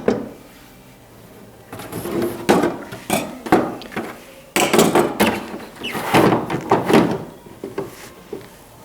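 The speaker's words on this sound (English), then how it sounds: "now we can reorient the rear shroud facing the right direction and slide that into place." A plastic rear shroud of a speaker slides into place, with a series of knocks, scrapes and clicks of parts handled up close, irregular and fairly loud.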